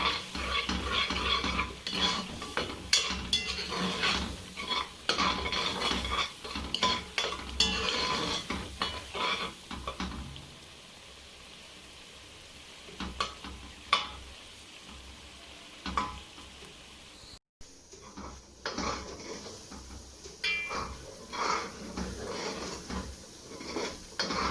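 Food sizzles and fries in a pot with Maggi cubes while a utensil stirs and scrapes against it, with occasional clinks of pans and cutlery.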